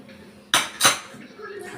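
Two sharp metallic clatters in quick succession as a metal tray is set down in a kitchen, ready to hold a hot dish, followed by quieter rattling.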